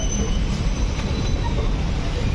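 The 12604 Chennai SF Express pulls into Guntur Junction, a steady loud rumble of rolling wagons with faint wheel squeal and a thin high whine running throughout, close by and without pause.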